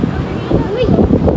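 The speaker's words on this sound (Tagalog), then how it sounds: "Pinapayar na ng hangin." Gusts of wind buffet the microphone on a foggy hillside lookout in Tagaytay, roaring close and steady, while a voice talks over it.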